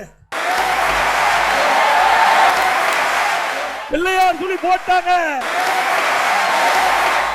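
Crowd roaring at a Tamil political rally, a dense loud wash of cheering and applause that breaks for about a second while someone speaks, then surges back.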